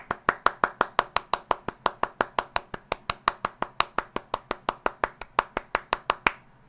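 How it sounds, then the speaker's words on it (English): A single person gives Sushi a round of applause, about thirty crisp, evenly spaced hand claps in a quick steady rhythm. The claps are close and clear and stop abruptly at the end. "Round of applause for Sushi."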